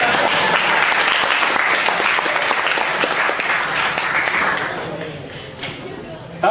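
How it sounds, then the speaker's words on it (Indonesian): A talk-show audience claps loudly and densely, a full burst of applause that holds for several seconds and then tapers off, leaving quieter room sound at the end. "Gak ada yang mau tepuk tangan?"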